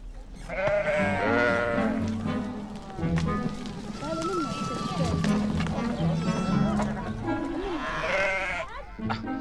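Sheep bleat repeatedly close by in Tunisia, wavering cries rising and falling while people talk and move around them, catching the sheep.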